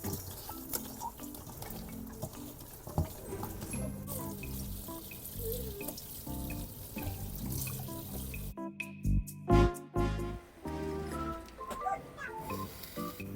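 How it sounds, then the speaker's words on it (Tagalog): Running tap water pours continuously while beef lung is washed with salt in a sink, with splashing and handling noises close by and a short burst of heavier rinsing near the end. "hugasan natin ng asin ang baga"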